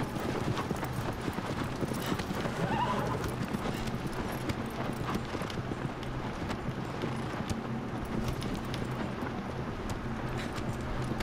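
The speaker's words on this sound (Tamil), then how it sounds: "குதிரை சிணுங்குகிறது" A horse gallops in the video game Shadow of the Colossus, with rapid, continuous hoofbeats at an even pace and no clear whinny standing out.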